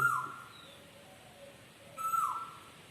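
Birds call outdoors around a school, with a strong chirp near the start and another around two seconds in, plus faint calls in between over quiet background.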